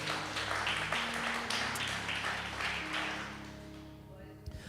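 A church congregation applauding during a sermon, with a broad wash of crowd clapping over sustained music and low voices, fading gradually toward the end.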